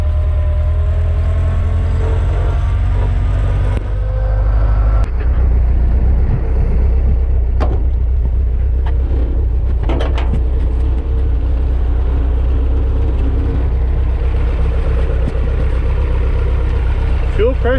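A Willys Flatfender Jeep engine with vapor lock troubles pulls up steep hills, a steady loud low drone with occasional clicks and bumps over the rumble, running continuously without talk.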